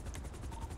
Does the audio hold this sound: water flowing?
no